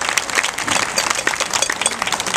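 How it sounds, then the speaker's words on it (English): A crowd applauds the volunteers at a live show, with dense, fairly loud clapping filling a short burst and no one speaking over it. "I want a round of applause for these fantastic volunteers."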